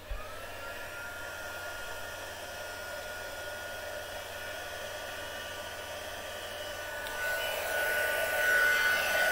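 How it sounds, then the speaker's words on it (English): Craft heat tool blowing hot air at a work surface, a steady continuous whoosh that holds for most of the time and grows louder and brighter near the end, with no talking. "Heat tool."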